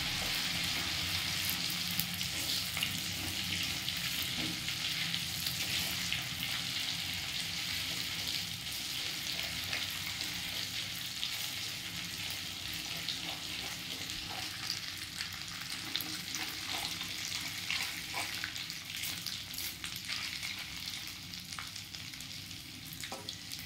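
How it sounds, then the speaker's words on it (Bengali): Ginger and garlic frying in a wok on lowered heat, giving a continuous even sizzle with occasional soft stirring scrapes, close and steady and with no one talking. "এটাকে ভালো করে আদা রসুনটাকে ভালো করে ভেজে ভেজে নিতে হবে।"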